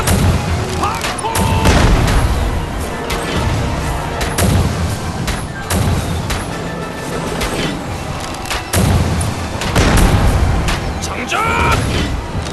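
A Joseon warship fires volleys of cannon during a dramatised naval battle against Japanese ships, repeated booming blasts with rumbling echoes, loud and close, while voices shout orders between them.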